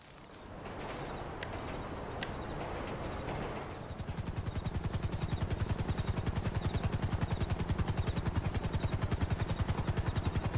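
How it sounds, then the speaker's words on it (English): A helicopter in GTA 5 gameplay approaches, its rotor swelling from a muffled hum into a loud, steady rapid chop that dominates the rest of the clip. "A helicopter has been dispatched to your location."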